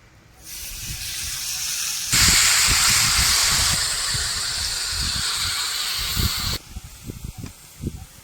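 A drumstick flower mixture hits a hot oiled griddle, with a loud, steady sizzling hiss that starts abruptly, swells, then cuts off sharply, leaving faint taps and handling noises close by.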